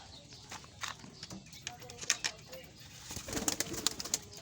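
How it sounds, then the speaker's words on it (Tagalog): Pigeons kept in a loft coo softly and shuffle around nearby, with faint flutters and scattered clicks, quiet and close with no talking. "Papakita ko sa iyo ang ating mga kalapate"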